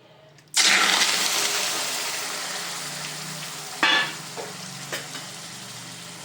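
Chicken liver hits hot oil in a pan with a sudden loud burst of sizzling that settles into a steady fry, punctuated by a few sharp spatters and clinks near the end; no talking.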